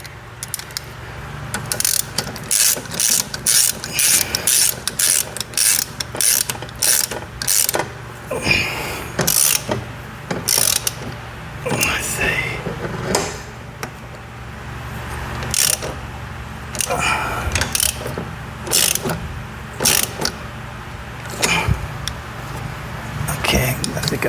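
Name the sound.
tightening a nut on a John Deere 3038e rockshaft valve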